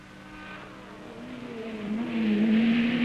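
Engines of 1968 British Saloon Car Championship racing cars, including Porsches, Fiats and Alphas in a 42-car field, build behind a pace car at a rolling start, a rising drone of revving motors growing louder and closer.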